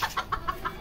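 Soft, rhythmic clucking from a chicken, five quick clucks in a steady pattern, fairly faint and close.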